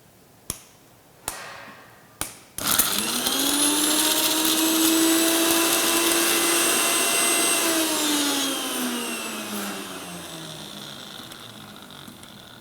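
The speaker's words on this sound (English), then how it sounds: "So I'm going to grind a bunch of haldi, and in less than 30 seconds you'll have a fresh batch to use right at home." An electric spice grinder pulverizes turmeric (haldi), starting with a few sharp clicks before spinning up into a loud, steady whine and roar that holds for several seconds, then slowly winds down.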